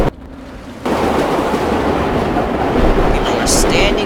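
Subway train in World of Subways 4 running with a steady loud rumble and rolling noise throughout, after a brief quieter moment at the start, with a short higher hiss near the end.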